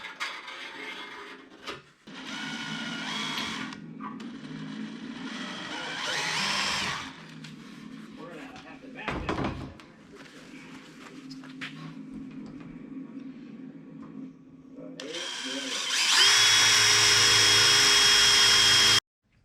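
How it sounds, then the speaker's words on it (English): A power drill whines in several bursts, stopping and starting, with a loud, high-pitched final run as the bit cuts through the rusty metal of a truck bed. "drilling all my holes back this direction so it doesn't leave so much swarf on this side"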